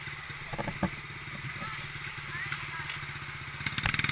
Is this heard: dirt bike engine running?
yes